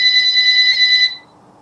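A phone rings with a bright, steady electronic tone, loud and close, lasting about a second before cutting off abruptly into near silence.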